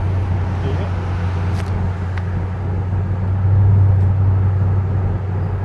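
A 2007 Mercedes-AMG SL55 with a 510-horsepower engine, driving fast, gives a steady, loud low drone from inside the car that swells slightly toward the end, with no speech.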